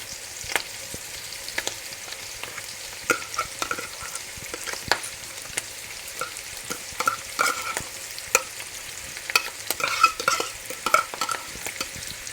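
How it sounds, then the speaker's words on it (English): Tuna and peppers sizzle gently as they fry in a pan, stirred with steady scraping and clinking of a utensil, with no voices. "So I'm now going to add my tuna with the peppers."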